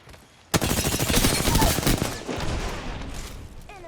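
Rapid bursts of gunfire in the battle royale game Apex Legends, Olympus map, erupt suddenly and loudly, a dense sustained volley of automatic shots that tapers slightly toward the end.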